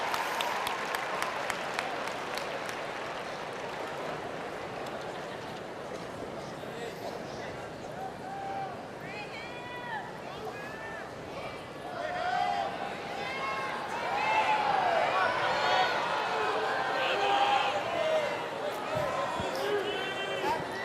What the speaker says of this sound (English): Crowd is really getting into this.